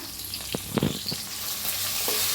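Green chillies, curry leaves, peanuts and dal frying in a pan for raw mango rice, a steady close sizzle with a few sharp stirring scrapes and clinks in the middle, no talking.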